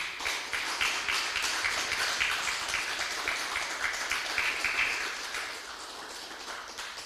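Church congregation clapping together in steady rhythmic applause, dense and continuous for several seconds before thinning slightly toward the end.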